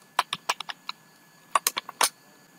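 Keys clack on a computer keyboard in two short bursts of quick, crisp taps, close and clear with no talking.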